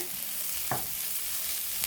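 Okra, green chillies and curry leaves fry in a pan with a steady broadband sizzle, interrupted once by a short sharp crackle as something is added or stirred.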